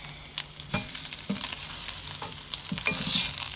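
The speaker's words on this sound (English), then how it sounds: "That fish is cooking all the way through." Fish sizzling and frying in butter and spices over an outdoor fire, a steady crackle with a few soft scrapes and taps of a utensil turning the fillets, close by and with no talking.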